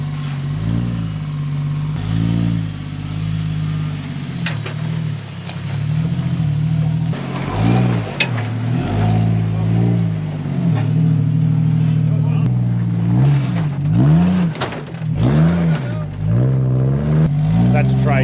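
A 4WD's engine revs hard and repeatedly as it claws up a steep, rough off-road track on new, low-pressure tyres, its loud rising and falling drone running throughout with voices talking over it.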